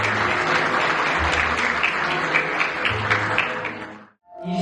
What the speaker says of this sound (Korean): 신랑 신부 맞절 큰 박수 부탁드립니다.